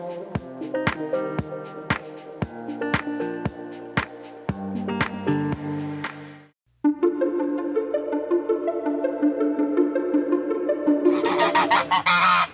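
Goose on a small farm honking close by in a quick, regular run of sharp calls, followed after a brief pause by a denser, continuous stretch of honking and squawking.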